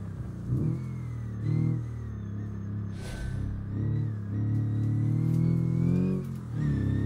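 A rear-engined rally car in BeamNG accelerates hard, its engine rising and falling steadily through the gears, loud and close throughout, with no talk over it.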